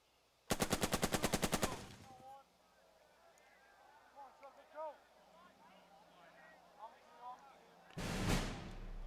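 Gunfire in Burden of Command, a rapid burst of about a dozen evenly spaced shots, then quieter chatter and a person speaking, ending with a single loud blast.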